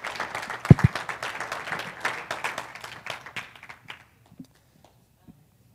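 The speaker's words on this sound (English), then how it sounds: "Guys, give them a big round of applause." Audience applause at a business reception, a burst of clapping that fades out after a few seconds into near silence, with a couple of stray claps at the end.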